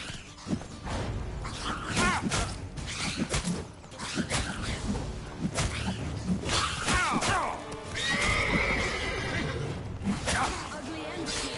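A neighing horse named Roach in The Witcher 3 gives a whinny that rises over voices and game ambience, with a few creaks and some hoof movement.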